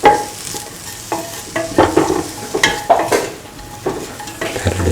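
Spiced rice with potato and ivy gourd, seasoned with garam masala and salt, being stirred in a hot pan: repeated scraping strokes over a steady sizzle, close and moderately loud, with no voices.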